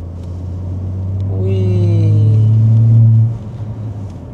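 A BMW 540i G30 with an added exhaust sound accelerates while driving, its deep engine and exhaust rumble swelling steadily to a loud peak, then easing off abruptly into a lower cabin drone.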